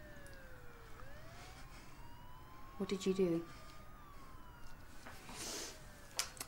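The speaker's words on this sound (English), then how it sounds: "Maybe they know you're hurt and the ambulance is for you." An ambulance siren wails in the distance, rising and falling under a brief exchange of speech in a quiet street setting, with other faint traffic noise.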